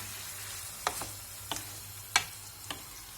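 Chopped tomatoes frying in a pan for Turkish menemen give a faint, steady sizzle, broken by four soft clicking taps that sound like stirring.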